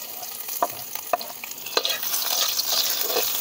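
Garlic sautéing in a little hot oil in an outdoor pan for pork pata hamonado, a steady close sizzle broken by a few sharp stirring scrapes and clicks, with no voices.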